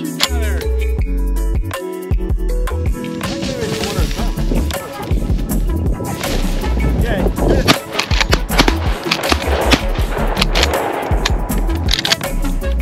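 Shotgun fire during an upland game bird hunt: a rapid run of loud, close blasts, some in quick succession, with excited voices talking between and over the shots.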